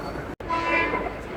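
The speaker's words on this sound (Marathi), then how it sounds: "आता माझी ट्रेन आली आहे फास्टवाली, मी फास्ट ट्रेन पकडणार आहे" Fast commuter train pulling into a crowded station platform, a steady rumbling rail noise filling the clip with a brief dropout near the start and faint tonal horn-like lines, amid busy station ambience.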